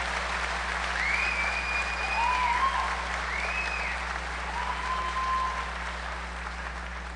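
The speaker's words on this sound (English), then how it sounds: "Would you please give a round of applause to the engineering tech class of" Applause at a senior recognition graduation ceremony for an engineering tech class, steady crowd clapping in a large hall with a low electrical hum beneath and a few faint whistles or cheers.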